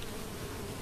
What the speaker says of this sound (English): Hey Gary, I'll get these bees any minute